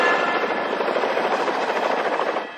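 A police helicopter hovers overhead during a chase, its rotor throbbing in a loud, steady, rapid chop that fills the whole span before easing slightly at the end.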